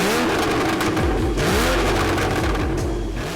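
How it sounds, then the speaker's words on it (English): A 2016 Porsche Boxster Spyder flat-six engine revs hard and wails through rising gear pulls, loud and close, with brief dips between shifts and no talking. "hearing that flat six wail with the top down has no comparison"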